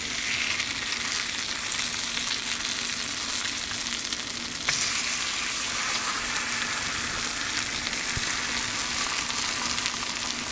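Bone-in ribeye steaks sear on a hot soapstone slab in a Kamado Joe Big Joe grill, giving a continuous loud, even sizzle with one brief crackling surge midway.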